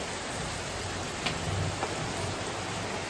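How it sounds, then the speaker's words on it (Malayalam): Steady rain falls throughout in Malappuram, Kerala, during a thunderstorm, a dense hiss of drops pattering on a surface, with a faint low rumble in the background. "വെറും മഴയാണ്."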